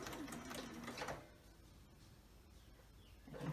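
Sewing machine stitching a quarter-inch seam along the edge of a quilt block, a quick close burst of rapid stitching that stops, a quiet pause, then starts again.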